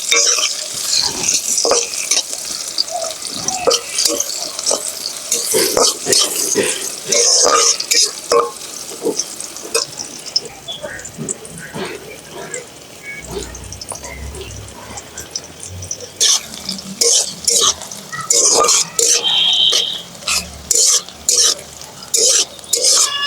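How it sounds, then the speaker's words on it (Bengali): Chopped onion frying in hot oil for a chicken and new potato curry, a steady loud sizzle broken by frequent stirring scrapes and clatters, with a few bubbling bursts and no talk. "এবার আমি কুচি করে যে পেঁয়াজটা রেখেছি এটা আমি ভেজে নেব পেঁয়াজটা আমি লাল করে ভেজে নেবো"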